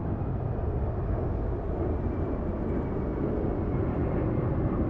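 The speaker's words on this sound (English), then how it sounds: "Our Aeromexico Dreamliner crossed right in front of our A380." An Aeromexico Dreamliner jet passing at LAX, a heavy, steady low-pitched engine roar with constant rumble, sustained and fairly loud throughout, no voices.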